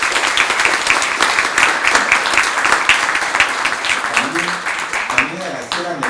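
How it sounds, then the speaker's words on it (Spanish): Audience applause at a Peruvian academic lecture, a dense sustained patter of many hands clapping, with a voice speaking over it toward the end. "pido un voto de aplauso, por favor, a Merlín"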